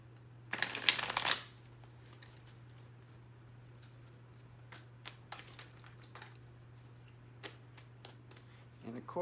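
A deck of tarot cards is riffled in one quick burst near the start, then the room stays mostly quiet with a steady low hum and a few small taps.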